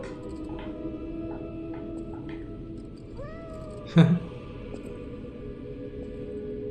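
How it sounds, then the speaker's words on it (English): A cat in the video game Lies of P lets out a single clear meow partway through, standing out over a steady low game ambience with faint chimes. "Okay, so it just meows at you."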